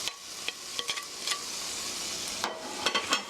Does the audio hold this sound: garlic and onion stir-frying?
yes